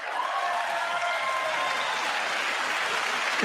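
Sustained applause from a large chamber audience at the State of the Union address, an even, continuous roar of clapping that holds at steady loudness with no break.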